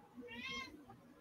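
A pet cat lets out a single short meow, close by and fairly faint, with a low murmur of background noise underneath.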